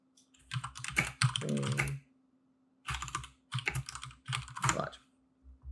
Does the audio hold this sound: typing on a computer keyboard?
yes